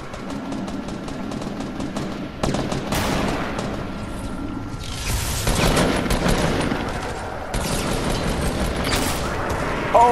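Gunfire in a shooter video game, rapid bursts of automatic fire crackling in repeated volleys with sharp louder blasts over about ten seconds, close and loud.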